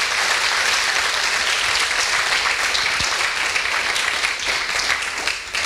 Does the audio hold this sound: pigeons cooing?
no